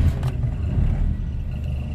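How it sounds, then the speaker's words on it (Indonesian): A 1997 Suzuki Katana SJ410 engine starting up: a brief cranking burst at the start, then a low, close rumble as the small engine settles into running, with no talk. "Kita nyalakan mesinnya teman-teman. Seperti apa mesin dari mobil ini."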